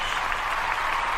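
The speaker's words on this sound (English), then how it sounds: "The crowd goes wild." Short burst of audience applause at a small business awards event, a steady wash of clapping from the crowd heard alone for just over a second.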